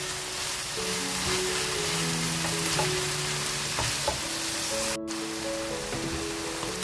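Minced meat (keema) frying with green chillies, a loud, dense, continuous sizzle filling the whole stretch, with occasional stirring sounds and a brief hiss cut out near the end.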